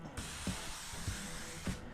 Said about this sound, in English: we're going to spray it down with some canola oil